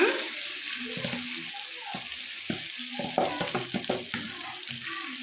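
Red chili chutney hits hot oil in a pan on a low flame and sizzles steadily, with a soft continuous hiss, scattered stirring scrapes and clinks, and no speech.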